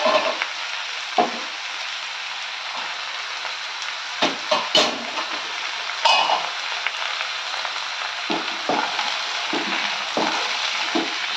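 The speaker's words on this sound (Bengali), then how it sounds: "এবার আমি ঢাকাটা খুলে ছোলাটা দেবো।" Chickpeas sizzle steadily in a hot pan while a Bengali sweet pumpkin chokka is being cooked, with a few sharp clinks and scrapes of stirring scattered through the continuous frying hiss.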